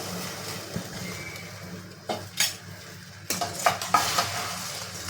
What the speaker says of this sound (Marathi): इथे कंटिन्यू आपल्याला हलवत राहायचं आहे लागायला नको म्हणून